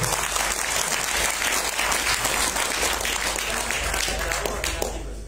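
A dense, continuous wash of applause from a large crowd at an Indonesian religious istighosah gathering with village officials and a pesantren, steady and loud from start to finish.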